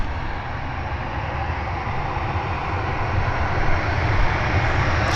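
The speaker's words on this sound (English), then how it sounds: "That's the Bizjet doing engine tests." A business jet runs engine tests at Vancouver airport, heard as a distant, steady, rumbling roar with a broad hiss that holds nearly constant and swells slightly toward the end.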